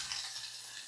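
Khichdi being tempered in hot oil with potatoes, peanuts, corn and chilies, giving a steady, bright hiss of sizzling oil, close and continuous.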